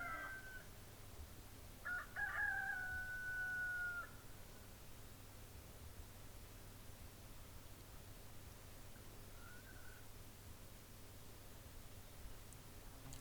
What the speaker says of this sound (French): On entend les chants de coq, ça c'est tout à fait normal.